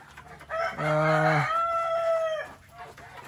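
A single hen vocalization, a drawn-out harmonic call lasting a couple of seconds, close and fairly loud over quiet farmyard background.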